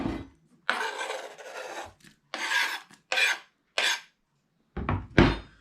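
A knife roughly chops unpeeled garlic cloves on a board in an allotment setting, making separate rasping, scraping strokes with short pauses between them, close and clear, with no talking.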